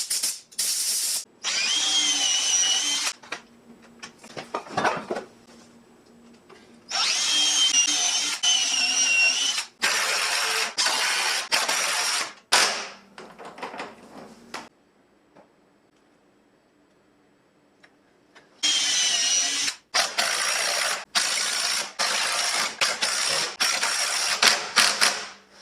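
A socket drive ratchet tightening bolts on locking swivel casters for a press cart, with bursts of rapid mechanical clicking that stop and start, separated by near silence.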